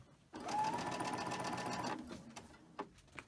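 A sewing machine stitches quilt blocks in a steady, close whir for about a second and a half, then stops, leaving a few faint handling clicks and a quiet room.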